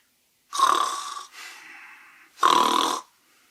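A voice imitates two loud, rasping snores, each inhale followed by a softer, breathy exhale.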